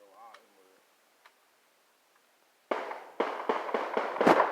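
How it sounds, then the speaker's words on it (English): A real gun fired outdoors in Mississippi sends out a rapid run of about six sharp, loud bangs after a quiet stretch with faint talk and a few soft clicks. "That is a real gun. That is not fireworks right there."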